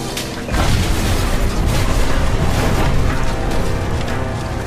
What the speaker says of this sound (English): an explosion rips through the remains of the plane